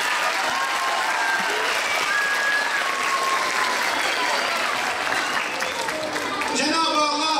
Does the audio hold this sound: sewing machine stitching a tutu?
no